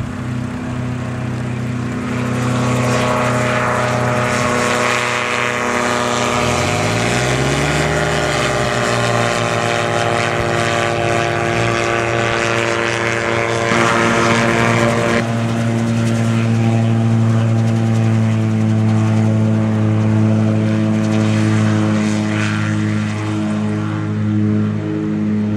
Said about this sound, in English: This is a two-stroke.